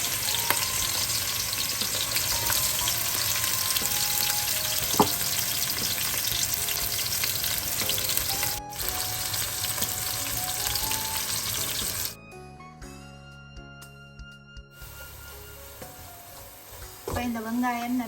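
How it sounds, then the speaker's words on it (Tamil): Sliced onions frying in a mix of oil and ghee, a loud continuous crackling sizzle with occasional stirring clatter and a sharp knock, dropping to quieter sounds and a brief running-water wash before the frying noise returns. "இந்த வெங்காயத்தை பொரிச்சு எடுக்கிறதுக்கு நான் எண்ணெயும் விட்டு நெய்யும் கொஞ்சம் சேர்க்கிறேன்"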